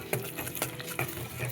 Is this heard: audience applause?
no